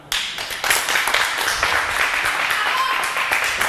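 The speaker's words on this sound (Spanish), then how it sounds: "No corresponden, me parece, si me disculpan, los aplausos" An audience applauding during a political debate in Uruguay, dense clapping that breaks out suddenly and continues at a steady loud level, with a faint voice underneath.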